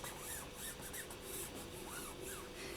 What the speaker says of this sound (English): you're just going to take your silk screen, give it a quick burnish